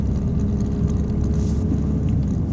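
A car rolling downhill on an icy road, a steady low engine and road rumble heard from inside the cabin, continuous and moderately loud with no talk.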